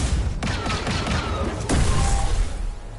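Blaster fire in the Star Wars Jedi Survivor video game, a dense, continuous barrage of loud shots with sharp bursts near the start and middle, heavy and close throughout, with no talking.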